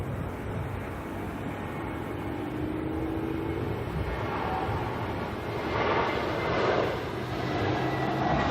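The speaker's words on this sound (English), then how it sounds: "we've got a 321 Neo coming in from the Gold Coast next, NZ188" An Airbus A321neo on arrival at Auckland Airport gives a steady, broad jet roar that swells slightly toward the end, heard alone at moderate distance.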